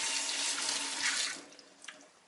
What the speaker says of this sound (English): let me, just in case, let me do a little rinse.